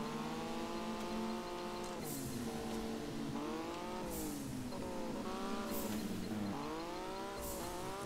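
A car sliding sideways in the racing game Juiced 2 sends its engine revs swooping up and down in repeated waves. Bursts of tyre screech come at about second-long intervals, moderately loud, with no voices.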